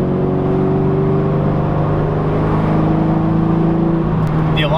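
Subaru BRZ with a center exit exhaust cruising, a steady low engine drone with a humming tone held throughout, loud and close from inside the car, shifting slightly near the end.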